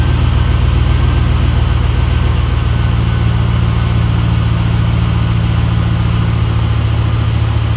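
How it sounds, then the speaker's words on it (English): A 2008 Ford F-150 engine idles after a mass air flow sensor replacement, a loud, steady low rumble close by that continues unbroken throughout, with no talking. "You can hear the idle coming down now."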